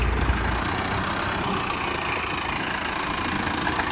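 New Holland 3630 TX four-wheel-drive tractor engine running in first gear, a steady close rumble with a faint knocking texture, constant level throughout.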